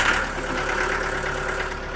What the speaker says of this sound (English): We got to do a little bit of tractor work first.